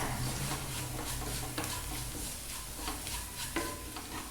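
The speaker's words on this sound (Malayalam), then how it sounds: "ഇതെല്ലാം കൂടി നന്നായിട്ടൊന്ന് മൂപ്പിച്ചിട്ട് എടുക്കുക." Kashmiri chili, coriander and chicken masala powders roasting in a pan make a soft, continuous sizzle with steady stirring scrapes close by, fairly quiet, under faint background music.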